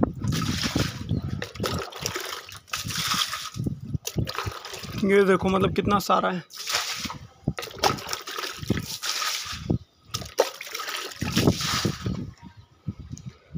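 Water poured from a bucket trickles and splashes in intermittent bursts while clearing debris from a garden plant area, with a person talking between and over the pours.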